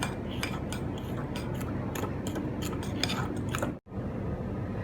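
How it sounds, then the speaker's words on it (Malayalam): A spoon scrapes and clinks around a bowl as plum cake batter is mixed, a busy run of quick, close taps and scrapes with one brief silent break near the end. "ഇത് നല്ല ഇത്തിരി ലൂസാകുന്ന പോലെ ഇളക്കി കൊടുത്തുകൊണ്ടിരിക്കണം."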